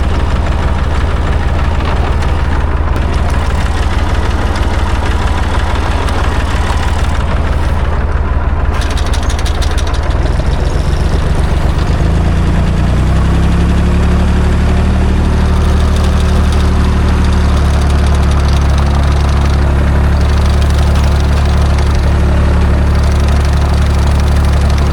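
A tractor idles with a steady, loud engine drone; partway through the hum deepens as its PTO engages to drive a hay mower cutting dusty hay beside a dirt road.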